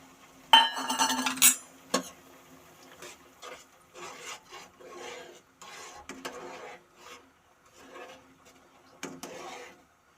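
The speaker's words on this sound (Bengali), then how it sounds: "একটি ডিম এইভাবে ঘেঁটে নেব।" An egg is whisked in a bowl for chicken soup: a fork rattles and clinks against the sides in quick bursts, loudest at the start and then softer, uneven scraping strokes close by with no speech.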